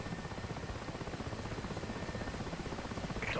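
Mi-8 helicopter engine and rotor running steadily after touchdown in the DCS flight simulator, a continuous low throbbing drone with a regular rotor beat and a brief higher whine near the end, no talk.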